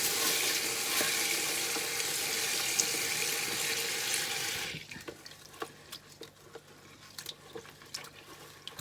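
Water from a tap runs steadily into a sink as wild garlic is washed in rice-rinsing water, then the flow stops, leaving wet splashing and handling noises of leaves in a bowl.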